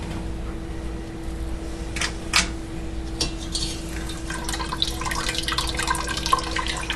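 Liquid drains from farmer's cheese through a colander set into a vessel, with trickling and dripping close by. Splashy bursts pick up toward the end, over a faint steady hum.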